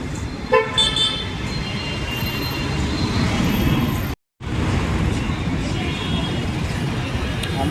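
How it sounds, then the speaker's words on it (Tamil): Busy roadside traffic under two stacked bridges, with vehicles rumbling past continuously and sharp horn toots near the start, then a steady wash of passing cars; a brief dropout mid-way. "2 பாலத்துமே வண்டி போகுது"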